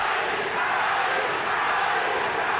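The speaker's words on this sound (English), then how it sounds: "The Pac-Man's hearing Manny, Manny from the Filipinos in the crowd who came a long way" Crowd noise at a Pacquiao vs Marquez boxing match, with Filipino fans chanting "Manny, Manny" as a broad, steady roar that fills the arena and holds at an even level throughout, with no distinct voices standing out.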